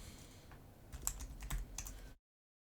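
Several quick keystrokes tapped on a computer keyboard for a shortcut while photo-editing software is in use, close and fairly faint, with a short burst of clicks and then silence.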